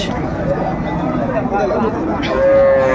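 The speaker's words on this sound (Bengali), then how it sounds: "সুন্দর মানের একটা গাভি বাছুর আমরা দেখছিলাম" A cow lets out a low moo near the end, heard over a busy background of people talking and crowd noise at a cattle market in Raniganj.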